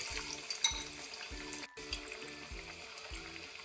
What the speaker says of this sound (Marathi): आता हे मस्त आपल्याला तेलामध्ये फ्राय करून घ्यायचे आहे